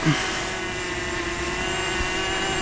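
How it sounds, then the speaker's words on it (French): A camera drone taking off and flying near an abbey overlooking a town, a steady, fairly faint whirring buzz of propellers running continuously, with a brief bump at the start. "je vais faire voler le drone"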